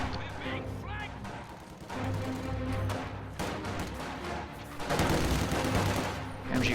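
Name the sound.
gunfire in a video game, sniper and machine gun fire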